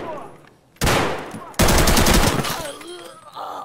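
Automatic gunfire in Escape from Tarkov: two loud, sustained sprays of rapid shots, the second starting abruptly and rattling on for about two seconds before fading, with faint voices nearby.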